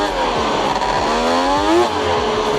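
A loud 160 HP race tractor engine roars and revs continuously at close range, its pitch climbing and shifting with each throttle change, with a rumbling low end throughout.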